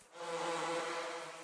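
A steady, droning bee buzz from Farming Simulator 19 on the Dabnica map, continuous and even-pitched, faint and heard alone without talk.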